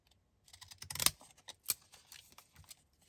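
A few sharp snips and paper rustles from trimming the edges of an artist trading card, quiet and close, in two short bursts with pauses between.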